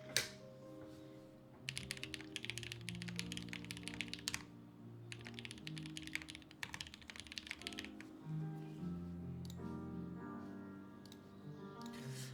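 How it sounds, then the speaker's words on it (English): Keystrokes rattle on an Alice-layout mechanical keyboard in rapid, continuous bursts of clicky typing with short pauses between runs, close but fairly quiet, and nobody speaks. "I just gotta get used to typing on Alice again."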